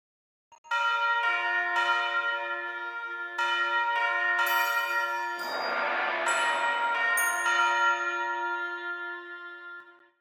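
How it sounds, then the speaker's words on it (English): Orchestral arrangement where tubular bells and glockenspiel ring out in repeated bright strikes over sustained tones, with an oboe line and cushioning pads, steady and fairly loud throughout before fading at the end. "And to help the oboe along, I also added in some glockenspiel, tubular bells"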